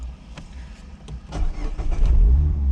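A manual-transmission car engine cranks and fires up from neutral, rising into a loud, steady low rumble that builds toward the end, with no talking over it.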